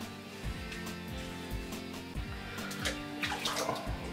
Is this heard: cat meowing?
no